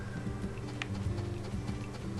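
Horse hooves while riding in Story of Seasons: A Wonderful Life, a steady, even clip-clop trotting rhythm at moderate volume over soft tonal background music.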